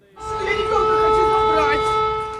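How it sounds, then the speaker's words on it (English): Air raid sirens sound in Donetsk during an evacuation alert, a loud steady mechanical wail with layered tones holding for the whole stretch, with a voice speaking beneath it. "sirens wailing after the authorities announced women and children would be evacuated to Russia"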